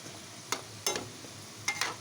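Chicken pieces fry in oil for homemade chicken pickle, a quiet sizzle broken by four short, crackling bursts as pieces are stirred or added, with no one speaking.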